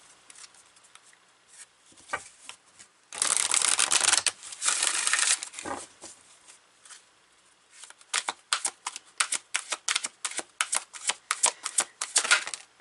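Oracle cards from a Power of Surrender deck are shuffled by hand, first in a dense riffling burst and then as a quick series of crisp, close flicks and slaps, with no talking.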